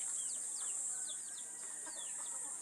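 Chickens being fed rice cluck and chirp in a busy, overlapping chorus of short calls over a steady high background hiss, with no talking.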